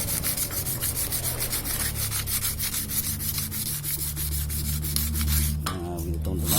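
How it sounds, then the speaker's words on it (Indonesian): Sandpaper rubbed steadily back and forth over a repaired sawmill saw blade whose crack was welded, a close, continuous rhythmic scraping with a low machine hum running beneath. "kita amplas yang 5 ya, tinggal 2 lagi"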